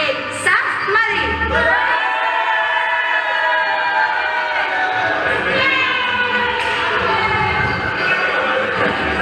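Audience at a Madrid school dance competition applauding and cheering as the first competitors come on, a sustained roar of clapping and voices with an announcer talking over it.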